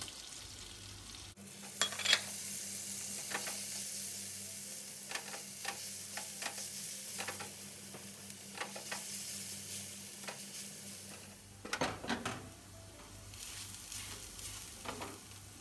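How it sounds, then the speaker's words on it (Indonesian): Grated garlic, three cloves, sautéing in margarine for a grilled-sausage seasoning, with a steady close sizzle and occasional stirring scrapes, pausing briefly near the end. "Kemudian tambahkan lagi margarin untuk menumis bumbunya. 3 siung bawang putih yang sudah diparut."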